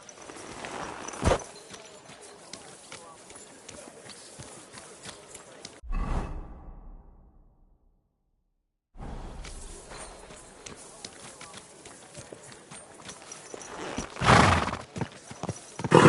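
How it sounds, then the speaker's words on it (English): Hooves clip-clop steadily with a horse neighing in the video game Kingdom Come Deliverance 2, broken by a brief silent gap midway; a loud whinny rises near the end, with voices intermittently present. "Do you want that horse to trample me?"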